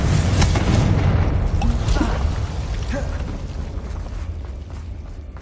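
A fiery explosion spell going off in the video game Hogwarts Legacy, a loud deep boom that rumbles and slowly decays over a few seconds, with faint crackles scattered in the tail.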